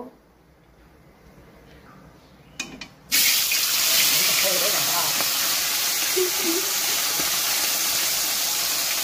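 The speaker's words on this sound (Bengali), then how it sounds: "তেলটা গরম হয়ে গেছে, এবার মাছটা ভাজবো" Fish dropped into hot oil in a home kitchen for a Bengali fish curry sets off a sudden loud, steady sizzle that keeps going, with faint clattering and a voice in the background.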